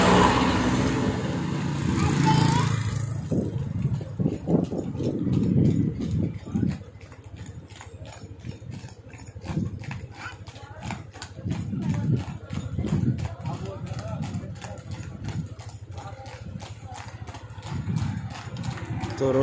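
Hooves of a horse pulling a delman carriage clip-clop in a steady trotting rhythm, close and clear, with wheel rattle and passing road traffic, and people talk over it in places.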